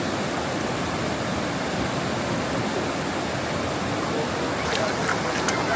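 River water rushes steadily and fairly loud at a popular semi-wild campsite in Perak, a continuous broad wash with no break, alone except for a few faint clicks near the end.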